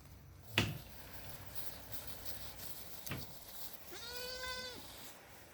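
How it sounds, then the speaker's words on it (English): A little goat bleats once near the end, a wavering, drawn-out call that stands out over quiet outdoor background, preceded by two sharp clicks or taps. "And the little goat is still here."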